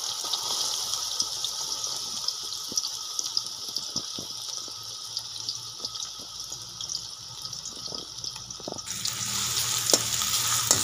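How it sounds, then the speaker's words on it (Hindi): Onions sizzle in hot ghee in a pan, a steady close crackle with occasional stirring clicks and a brighter hiss rising toward the end, with no voices. "इसके लिए सबसे पहले घी के अंदर प्याज डालेंगे।"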